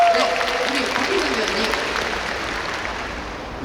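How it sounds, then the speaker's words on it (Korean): An audience at an outdoor stage claps in a dense burst for a film open-talk event, the applause loud at first and gradually thinning as it fades. "여러분 박수 한번 부탁드리겠습니다"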